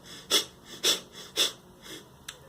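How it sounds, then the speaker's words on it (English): Breath of fire breathing exercise: rapid belly-driven exhalations forced through the nose, five sharp rhythmic puffs about half a second apart, close and breathy, the last one short and faint. "Number one is the breath of fire, which is just rapidly breathing with your belly and exhaling through your nose."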